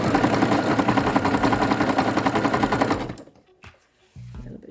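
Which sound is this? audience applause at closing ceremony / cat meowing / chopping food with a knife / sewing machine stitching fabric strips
sewing machine stitching fabric strips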